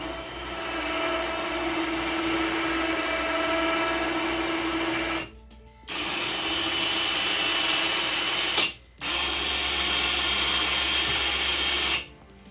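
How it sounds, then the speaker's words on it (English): Electric winch on a Bayou 220 ATV reels its cable in with a steady motor whine and hum, close by, stopping briefly twice with short silent gaps before resuming. "I got the winch installed, the winch works and everything"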